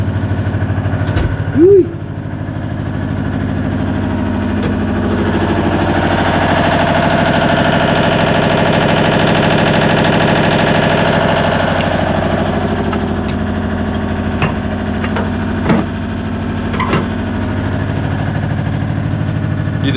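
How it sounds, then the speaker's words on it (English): A boat's onboard generator running moored in a marina, a loud steady engine drone with constant low hum throughout, a few faint clicks and knocks on top and a brief voice near the start. "And this is the noise from the generator."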